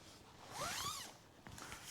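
Zip on a OneTigris Coco Nest four-season hot tent door being pulled open, a single quick rasping zip sweep lasting under a second, followed by a few faint rustles, close and clear with no talk.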